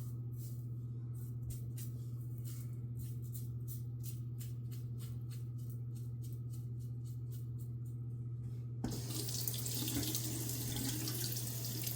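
A bathroom tap turns on near the end to rinse a Yates 921-H safety razor, giving a steady, close hiss of running water after several seconds of faint ticking and a low hum.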